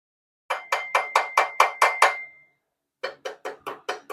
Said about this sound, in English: Get a hammer and bang on it.